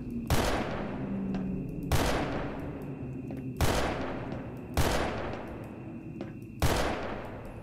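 Gunfire in Garry's Mod: five loud, evenly spaced bursts, each with a sharp crack and a trailing roar, heard alone with no talk.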